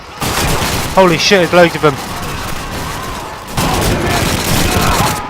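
Submachine gun fire in the WWII shooter Call of Duty 2, a dense rattle of automatic shots and battle noise, with someone talking over it partway through.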